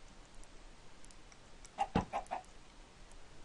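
A few short chicken clucks from the Minecraft video game, a quick cluster of three or four clipped calls near the middle, standing alone over a faint background hiss.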